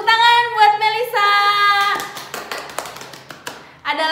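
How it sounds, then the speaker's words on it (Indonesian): A sixth-grade primary school classroom bursts into brief, scattered clapping from pupils, set between stretches of a speaking voice that opens the moment and then returns at the end. "Hebat, tepuk tangan buat Melisa."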